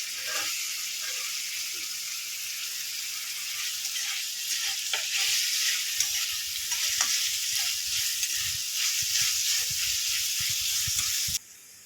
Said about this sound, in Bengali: তো আদার পেস্ট দিয়ে দেব, ভেজে নেব। ক্যাপসিকাম দিয়ে দেব।